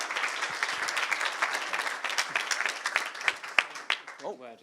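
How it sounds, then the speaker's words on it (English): An audience at a tech startup event gives a round of applause, dense crowd clapping that fades and thins into scattered claps, with a voice starting to speak as the clapping dies away. "One more round of applause."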